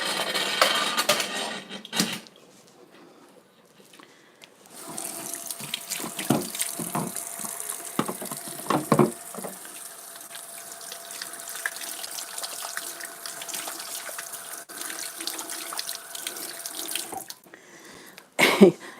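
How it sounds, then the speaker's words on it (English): Hands being washed under a running sink tap, with water splashing and gushing at close range, broken by pauses and brief rustles between the steady flowing stretches. "Gotta wash my hands first."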